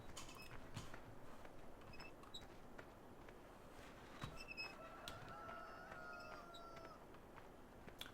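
Chickens cluck and a rooster crows in Farming Simulator 2013, the calls moderately close among steady farmyard ambience, with a long drawn crow near the end.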